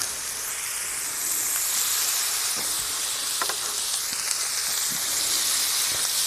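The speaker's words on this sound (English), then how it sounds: "steaks are going on, especially this big fat one" Steaks, including one big fat cut, sizzle on a grill in a steady broadband hiss that stays fairly loud and even throughout, with a few soft pops and ticks breaking through.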